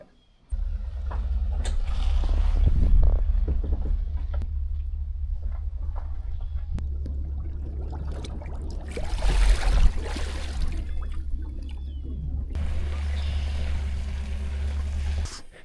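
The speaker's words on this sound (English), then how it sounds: "this is my Ranger Z185. Dual console. I got a 150 horse Pro XS Merc on the back." A Ranger Z185 dual-console boat with a 150 horsepower Mercury Pro XS outboard runs on the water, a loud low engine drone with rushing water that swells midway and then settles back.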